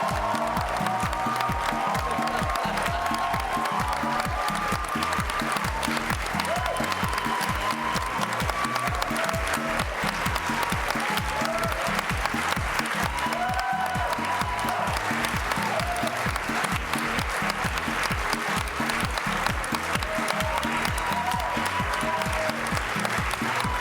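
A studio audience at a televised Loft Story gala in France applauds steadily and densely for the full length, a continuous wash of many hands clapping with no pauses.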